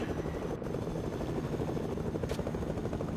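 A helicopter in the Fortnite video game on Nintendo Switch drones steadily with a thick, continuous rotor rumble, loud and unbroken, with a brief click partway through and no talking.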